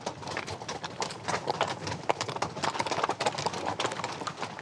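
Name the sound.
horses' hooves clip-clopping on a steep mountain trail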